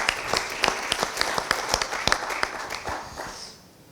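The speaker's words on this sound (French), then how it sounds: "je vous invite à l'applaudir" A small audience claps for a speaker at a conference on rheumatism and air quality, a moderate round of individually distinct claps that fades away toward the end.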